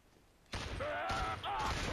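A burst of loud, continuous gunfire in Killzone erupts after a brief quiet, with rapid shots and mechanical clatter filling the rest of the moment.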